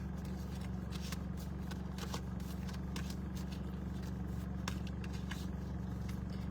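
A tarot deck is shuffled by hand in a quiet room, with repeated crisp riffling flicks over a constant low electrical hum.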